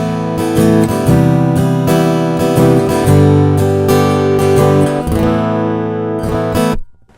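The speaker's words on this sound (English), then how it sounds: "It's got a pretty good sounding pickup in it. It sounds like this plugged in direct with no effects." Acoustic guitar played through its pickup with a clean, dry tone, strummed chords and picked notes ringing for several seconds before stopping.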